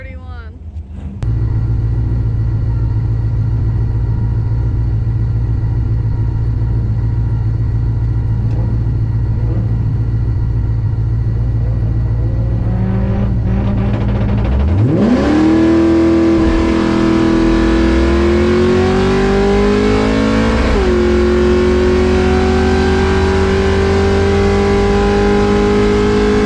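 A car engine holds a steady high-rev drone, then launches from 5000 RPM. The loud rising roar climbs and shifts through gears as it pulls away, close and dominant throughout.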